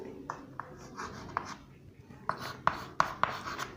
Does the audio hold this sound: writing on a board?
yes